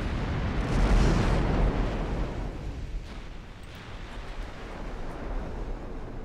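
Heavy naval gunfire from warship batteries in the naval strategy game Ultimate Admiral Dreadnoughts, with a loud booming blast near the start that decays into a sustained rumble of continuing fire.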